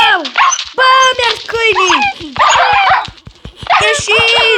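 Dogs in a video game bark, yip and whimper in a loud, busy run of repeated calls, with people talking over them.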